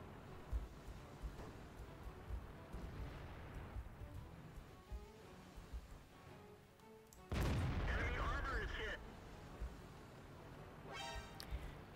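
Tank cannon fire in World of Tanks, a heavy boom bursting in around the middle and ringing on for a few seconds over a busy game mix, with people talking before and around it.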